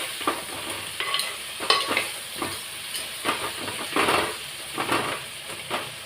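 Bitter gourd pieces frying in oil, with a soft hiss and sizzle under irregular stirring scrapes and clacks of a utensil against the pan, close by and without any speech.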